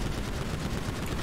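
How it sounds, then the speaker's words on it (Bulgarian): A tank fires at the player in a shooting video game, a dense, loud, sustained roar of gunfire and blasts filling the whole short moment with no letup. "Стрелят ме с танк!"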